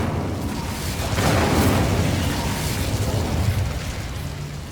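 Incendio fire spell blasting in Hogwarts Legacy, a sustained loud whooshing burst of flame with a rumbling low boom that swells at mid-clip and then trails into a continuous roar.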